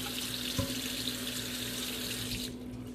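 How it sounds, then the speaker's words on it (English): Steady stream of hot water pouring into a container, a continuous splashing rush that cuts off abruptly near the end. "really hot water in here just to get it mixed up"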